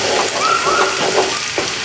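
Onions and curry leaves frying in hot oil for a dried shrimp fry give a steady, close sizzling hiss, with a few faint high chirps over it.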